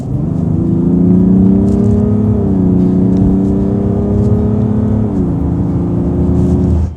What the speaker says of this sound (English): I hit the accelerator.